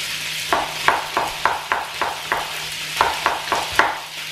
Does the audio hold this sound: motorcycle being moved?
no